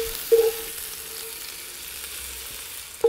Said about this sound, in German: Ich brate jetzt gleich den zweiten Part an.